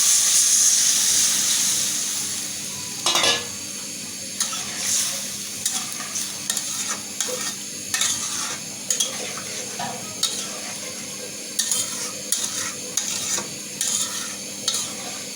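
Ash gourd cooking in a pan sizzles as water is poured in, then a spoon scrapes and stirs in short, repeated strokes over a steady hiss of steam and frying.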